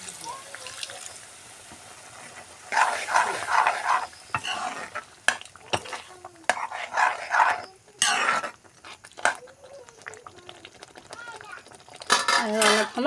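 A spoon stirs taro and meat curry in a pot, with scraping and clinking against the metal in uneven bursts over a soft sizzle, close and moderately loud, with occasional quiet speech between strokes.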